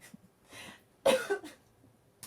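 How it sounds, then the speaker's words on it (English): A couple of short, sharp coughs close to the microphone, with a softer throat sound before them and quiet pauses between. "sorry, I got a cough."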